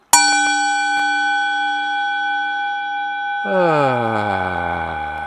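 A struck gong rings out with a sustained, shimmering tone, then swells into a louder wash of rising and falling overtones that fill the end.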